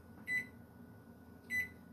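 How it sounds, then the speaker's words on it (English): A microwave oven hums steadily while softening butter, with two short electronic beeps cutting through the low drone about a second apart, close and clear, no talking. "If you do it about 5 or 6 seconds at a time in the microwave, you can do it without totally ruining it"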